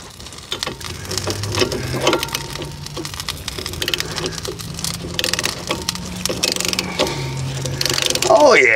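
Crankshaft pulley on a zero turn mower working loose and sliding off, with a steady low hum, scattered metallic clicks and scrapes, and a sharper clatter near the end.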